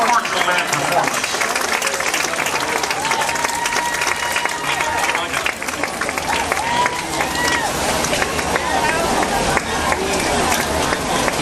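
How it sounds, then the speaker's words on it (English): Crowd applause and cheering in a high school football stadium after East Clinton High School's marching band performance, a steady loud wash of clapping and crowd noise with babble throughout. "Let's give a warm round of applause to our friends at East Clinton High School with a great marching band performance."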